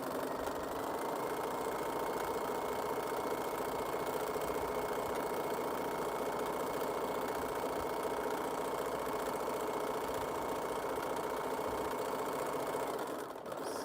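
A sewing machine stitches a tote bag, running at a steady, continuous mechanical hum close by for almost the whole time and stopping just at the end.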